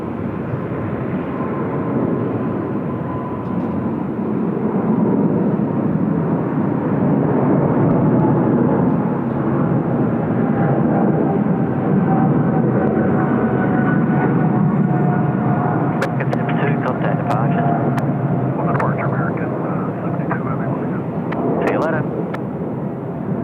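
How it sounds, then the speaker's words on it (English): American Airlines flight 72 jet taking off from Sydney Airport, a loud, sustained roaring engine thrust rumbling steadily for over twenty seconds, with a faint whine drifting through and people talking over it. "American 72, and they've been very, very kindly gifted a straight out departure runway heading."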